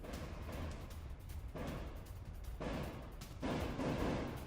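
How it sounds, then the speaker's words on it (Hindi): Gunfire rattles in conflict news footage from the Middle East, a faint, continuous wash of crackling shots with denser bursts midway and toward the end, no voices. "एम्बियंस अप, गोलियों की तड़तड़ाहट है इसमें।"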